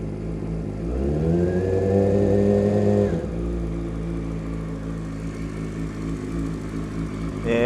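A motorcycle engine with a ticking fault runs steadily, revving up and holding a higher pitch for a couple of seconds before dropping back to a loud idle, then rising again at the end.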